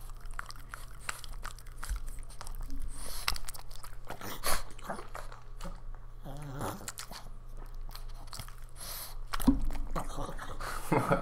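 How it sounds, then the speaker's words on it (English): Pug chewing close to the mic, with wet crunchy bites and squishy mastication, occasional snorts and louder crunch bursts, and faint background hum. "He's chewing."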